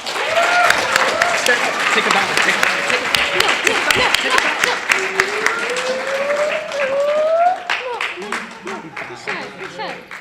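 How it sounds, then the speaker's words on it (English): A convention audience at a BronyCon panel claps for a sustained stretch while voices and cheers rise over it. One person speaks near the end as the applause thins out. "I think Emily deserves a round of applause."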